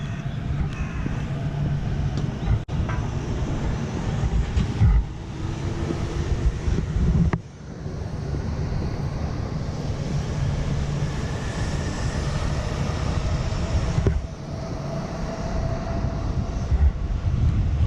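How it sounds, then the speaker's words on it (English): Wind blows outdoors in Shin Matsudo, Tokyo, a steady broadband rush buffeting the microphone for the whole stretch, loud and close with a brief dip midway. "Bit of wind."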